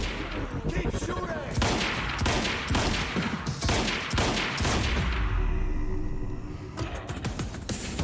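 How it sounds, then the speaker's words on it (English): Rapid bursts of gunfire from the video game Quantum Break, repeated volleys clustered through most of the stretch, loud and dense, with brief gaps and scattered impacts near the end. "Keep shooting!"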